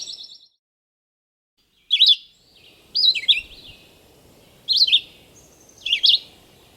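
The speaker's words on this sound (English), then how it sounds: "So I think I'm hearing a rose-breasted grosbeak." Rose-breasted grosbeak singing four short, sweet warbled phrases at steady intervals, fairly clear against faint low background noise.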